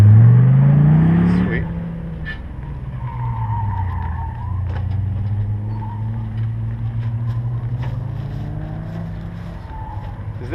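A Dodge Viper sports car drives past outside, beginning with a loud rising engine sweep that fades into a lower, steady engine drone heard at a distance.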